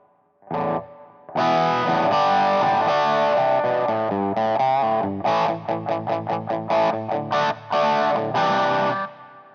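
Distorted electric guitar through an Orange amp model and Orange cab plays loud, crunchy chords, then choppy rhythmic stabs, with a thick, mid-heavy amp tone.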